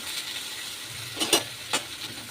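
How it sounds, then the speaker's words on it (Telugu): Tomatoes and garlic frying in oil for a hotel-style tomato chutney give a faint, steady sizzle with a couple of brief louder stirring scrapes. "ఇప్పుడు టమాటాలు వేసుకున్నాం అందులోనే వెల్లుల్లిపాయలు"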